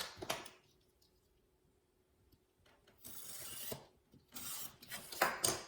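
Cutting a small 3 cm piece of leftover material for a retro TV-style phone cradle, heard as short rasping, scraping strokes in separate bursts with quiet pauses between, close and moderately loud.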